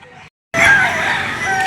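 A rooster crows loudly and close by at a chicken market in Lipa, Batangas, one sustained strained call following a brief earlier sound and a moment of silence.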